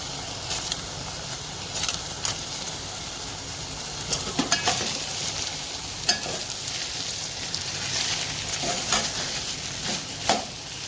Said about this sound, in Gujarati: હવે આપણે એમાં મગ એડ કરીશું।